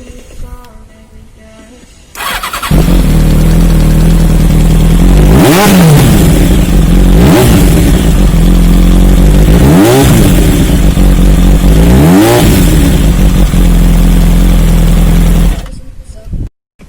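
A motorcycle engine with an aftermarket SC Project exhaust idles loudly with a raspy note, then revs hard three times in quick blips before cutting off.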